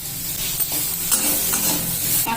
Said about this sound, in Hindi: मसाले के साथ देखिए सब्जी अच्छे से फ्राई हो गया है